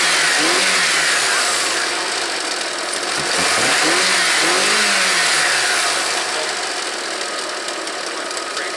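A car engine runs steadily and revs up and down, loud and close, with a worn motor mount and a rattling, knocking character during a radiator install.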